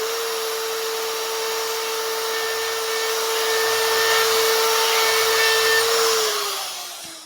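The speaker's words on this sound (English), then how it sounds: "now I'm going to try to break those edges on both sides at the same time. This should be possible with this burr" A tungsten carbide burr grinding the edges of metal plates on both sides at once, a steady high whine that holds evenly for several seconds, then drops in pitch and fades as it winds down, with no talk.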